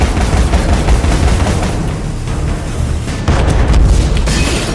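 A cannon-dog enemy in a video game fires its cannon, producing dense, rumbling booms and blasts that run continuously at high volume.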